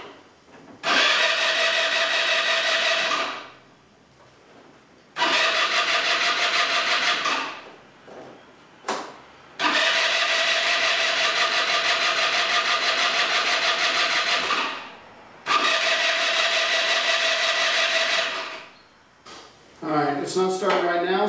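A small engine cranks repeatedly in four long bursts, a steady mechanical whirring that never catches because the carburetor has no gas, with short quiet gaps between tries and a brief rattle at the end.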